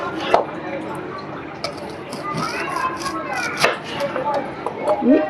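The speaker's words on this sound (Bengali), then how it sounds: "এই দেখো এরকম করে কাটছি।" A knife chops ingredients for garlic chicken gravy on a board, several sharp, close cuts spaced unevenly, with voices talking in the background.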